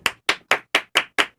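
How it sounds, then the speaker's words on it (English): Seven sharp hand claps at a Christmas party land in a steady, evenly spaced rhythm, close and crisp with silence between each clap. "Everybody, clap your hands."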